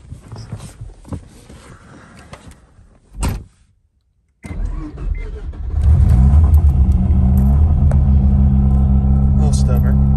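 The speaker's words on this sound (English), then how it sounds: "I'll give the RX7 a little crank." A Mazda RX7 being cranked: some talk and a brief burst of noise, a moment of silence, then the engine catches and settles into a loud, steady low rumble and idle.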